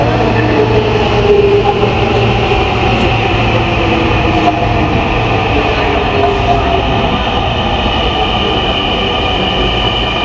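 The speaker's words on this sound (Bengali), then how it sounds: "ট্রেন চলে আসছে।" Metro rail train arriving at Uttara Diabari station in Dhaka, its steady loud rumble and electric whine building up close, with faint clicks of wheels over the rails and no voices.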